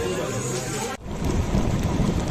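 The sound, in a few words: heavy rain with thunder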